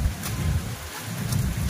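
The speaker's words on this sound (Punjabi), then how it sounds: "ਇੱਧਰ ਬਹੁਤ ਹੀ ਜ਼ਿਆਦਾ ਜਿਹੜੀ ਬਾਰਿਸ਼ ਹੈਗੀ ਉਹ ਆਣੀ ਸ਼ੁਰੂ ਹੋ ਗਿਆ" Heavy rain beginning to fall, a broad rushing wash with low gusty rumble like wind buffeting the microphone, continuous and fairly loud throughout, with no talk.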